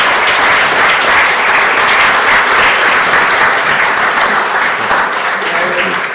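Sustained loud applause from an audience at an LSE public event, steady clapping that fills the room without pause to thank the panellists.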